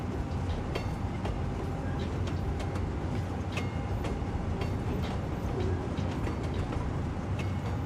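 A train in the city-building game Cities Skylines 2 runs steadily along the rails, with a continuous rolling rumble and repeated clickety-clack wheel beats throughout.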